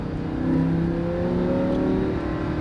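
Lamborghini Huracan engine revving as the throttle is squeezed on a race track, a smooth rising whine held steadily and close throughout.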